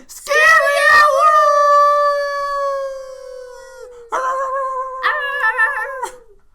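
A pet dog at home gives loud, drawn-out howling cries, one long sustained howl followed by two shorter yelping howls, close to the listener with no talking.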